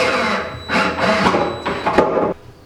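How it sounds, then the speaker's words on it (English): A power driver sends screws into a kitchen cabinet box in a 1950 condo remodel, heard as several loud, close whirring bursts with short pauses between them. "And then continue screwing the box together"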